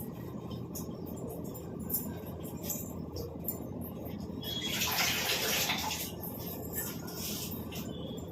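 Tap water runs steadily while greens are rinsed for cooking in a home kitchen, with a brief louder splash midway, faint clinks, and no clear talking.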